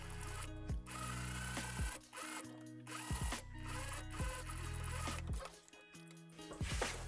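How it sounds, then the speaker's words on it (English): Sewing machine stitching a line on a quilted jacket, quiet rapid mechanical whirring in short bursts separated by brief pauses. "I'm gonna just stitch down here."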